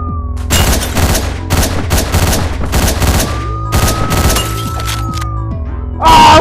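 Gunshots in Hotline Miami, a string of loud, punchy blasts in uneven bursts with some shattering debris, a synth tone droning beneath, ending in a louder burst.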